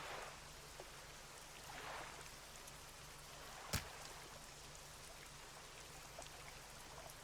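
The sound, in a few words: rain falling in the video game Dredge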